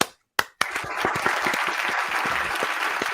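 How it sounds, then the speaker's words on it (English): Applause from a live football talk show audience, starting with a few sharp isolated claps that swell into steady, dense clapping filling the room. "deserves another applause"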